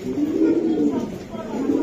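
A male racing pigeon, a 2024 bird from a racing club, gives a steady low cooing close by, with a faint hum of voices behind it.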